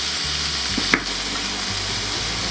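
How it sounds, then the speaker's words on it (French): Onion and beef frying in a pan give a steady soft sizzle, with a brief utensil scrape or clink partway through, close and alone without talk. "l'opération c'est faire colorer légèrement cet oignon"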